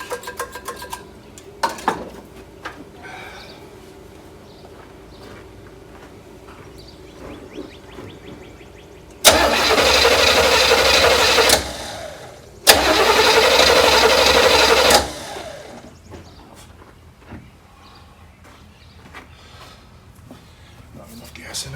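The starter cranks a neglected 1972 big block engine in two loud, steady bursts of about two and three seconds, separated by a brief gap. A quieter background comes before and after.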